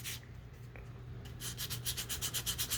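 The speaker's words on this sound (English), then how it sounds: "sanding little things here and there" Hand sanding on a sculpture, a dry abrasive rubbing that starts soft and irregular, then settles into quick, steady back-and-forth strokes, close and fairly loud with no one speaking.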